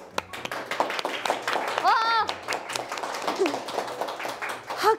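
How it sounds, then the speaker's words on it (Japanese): Sharp, close hand claps from a small group during an anime livestream program, mixed with lively voices talking and exclaiming over them. "拍手が浴びるぐらいの拍手ありがとうございます"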